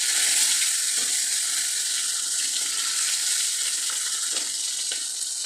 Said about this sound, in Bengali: এবার আমি এর মধ্যে মাছের মাথাটা ভেজে নেব।